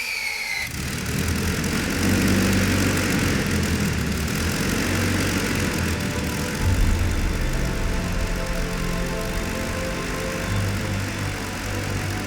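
An engine on a test bed roars loudly and continuously for the whole stretch, a steady dense rumble with a constant high whine, running alone without talk.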